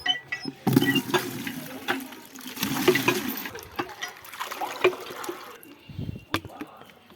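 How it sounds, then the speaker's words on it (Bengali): Water gushes steadily into a large bucket, a continuous splashing rush that swells and shifts in pitch as it fills, with a person talking over it and a short break near the end. "এই বালতিটার এক বালতি লোড করবো"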